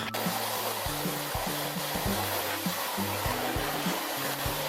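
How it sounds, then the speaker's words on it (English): A vacuum cleaner runs continuously indoors while sucking up fallen Christmas tree needles, a steady loud whooshing drone with a low, pulsing motor hum and no voices. "I decided to vacuum up all of the needles"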